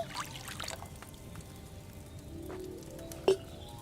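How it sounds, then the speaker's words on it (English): Wine pours into a cauldron in the video game Kingdom Come: Deliverance 2, a soft liquid trickle under quiet ambience, ending with a short bright clink. "So, what did you pour in there? Wine, of course."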